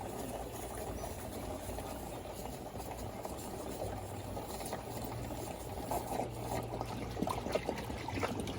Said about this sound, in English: And then a lot of water is going to start coming out.